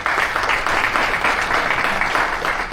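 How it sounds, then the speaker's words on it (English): A live audience gives a sustained round of applause at a year-end thank-you gathering, the dense, steady clapping filling the room for about three seconds without letting up. "I'd like an actual round of applause."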